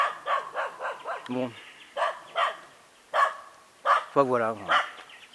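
A small dog barks in short yelps between bits of French speech, a couple of close, fairly loud barks breaking through the talk.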